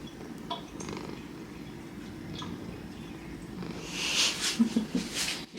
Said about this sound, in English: You're so loud. You're such a loud kitty.